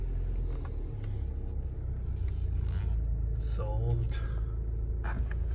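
A 2022 Alfa Romeo car driving, a steady low engine and road rumble from inside the cabin, with someone speaking briefly over it.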